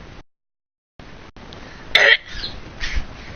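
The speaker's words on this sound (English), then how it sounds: "That's the best cough I can do" One forced, deliberate cough bursts out close and loud in a quiet room, followed by a rougher throat-clearing rasp, with brief near-silence before it.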